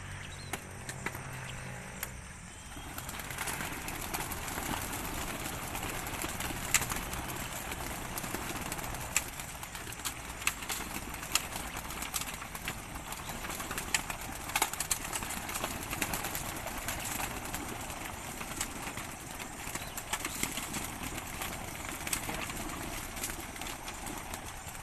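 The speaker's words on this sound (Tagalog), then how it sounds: "Yan, nagliparan na po ang mga ibon natin." Racing pigeons released for a training flight in Lucban, Quezon flutter off in a faint, distant mass, with scattered wingbeats and soft cooing over an idling engine and outdoor background noise.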